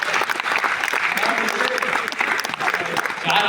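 Audience at a Hindi kavi sammelan poetry gathering breaks into dense, steady applause, many hands clapping together at close range for the full stretch with no pause.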